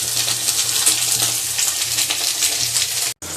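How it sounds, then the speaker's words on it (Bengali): Eggplant pieces sizzle loudly and steadily in hot oil, a dense continuous crackle with no talking, cutting off briefly near the end before resuming. "তেল গরম হয়ে গেছে, বেগুনগুলো দিয়ে দেব।"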